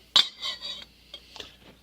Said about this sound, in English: And you have to stir that every little while.